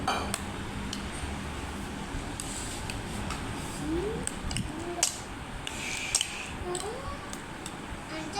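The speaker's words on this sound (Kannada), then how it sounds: "ಇವನ್ನೆಲ್ಲ ಹಾಕಿ ಚಲೋದಂಗೆ ಮಿಕ್ಸ್ ಮಾಡಿರಿ" Ingredients for a spicy pickle being mixed in a bowl, with scattered clinks and scrapes of utensil against the dish, occasional sharp taps, and a muffled background throughout.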